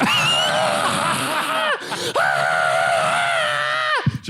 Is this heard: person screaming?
yes